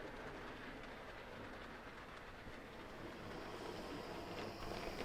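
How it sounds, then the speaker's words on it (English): A 00 gauge model A1X Terrier steam locomotive hauling two coaches rumbles past with steady clattering wheels and a broad roaring hiss, continuous and fairly close throughout. "an A1X Terrier hauling 2 BR suburban coaches full of happy holidaymakers"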